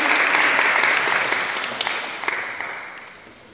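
Sustained applause from a crowd of women honoring Mangal Tai at a felicitation event, loud and steady at first, then slowly thinning and fading toward the end, with no voices over it.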